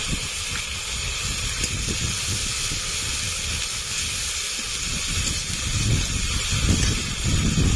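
Onion, ginger and cumin paste frying in hot oil in a pan while preparing a Bhola fish curry, a steady loud hiss and sizzle that swells slightly toward the end, with no talking.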